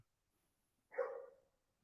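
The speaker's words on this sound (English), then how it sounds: "If y'all hear some barking" A single bark from a soaking-wet Labrador kept outside a studio, faint and distant, breaking briefly out of near silence.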